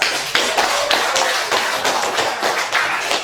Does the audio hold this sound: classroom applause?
yes